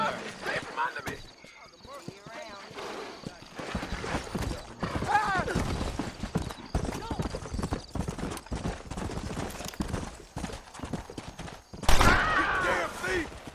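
Horse hooves clip-clop through a Red Dead Redemption game scene, a steady rhythm running beneath frequent talk, with a louder burst of action near the end and a possible whinny.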